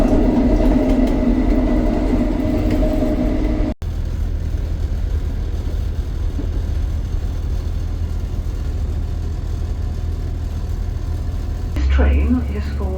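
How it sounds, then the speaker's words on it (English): Steady low rumble of a passenger train on the Boston to Nottingham line, a continuous interior drone with a brief dropout and a short burst near the end. "Boston to Nottingham, I'm on the train."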